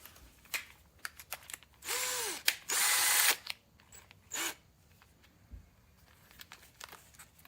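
A power drill spins a plastic welding tip into a damaged spin-weld fitting on an RV fresh water tank, whirring in two sustained bursts and one shorter one, with clicks and handling noises between.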